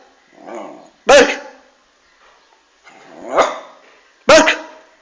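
Two sharp, close dog barks about three seconds apart, each preceded by softer low vocal sounds or whines.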